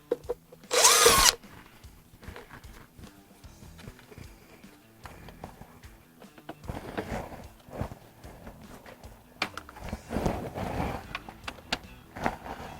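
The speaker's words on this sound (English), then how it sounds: "I'm going to go ahead and take screws out." A power drill backing screws out inside a 1995 GMC van: one short, loud whirring burst near the start, followed by quieter rustling and handling noises as parts are moved around.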